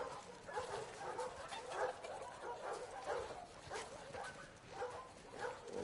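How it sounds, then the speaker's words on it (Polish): A dog in the video game The Last of Us Part 2 yips and whimpers in a steady run of short, moderately loud calls over a soft background bed, with no talking. "Co, a jest, jest pies, czy co?"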